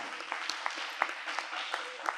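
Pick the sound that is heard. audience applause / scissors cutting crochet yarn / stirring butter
audience applause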